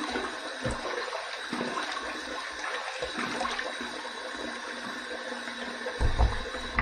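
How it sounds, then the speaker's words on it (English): Running water splashing steadily during a shave face rinse, a close continuous rushing with small splashes and a louder splash near the end. "All right, let's rinse."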